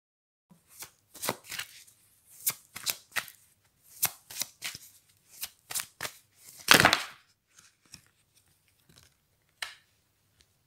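Playing cards shuffled and handled during a card reading, with a series of crisp riffling bursts and a longer flutter near the middle, then scattered soft taps and flicks, close and alone.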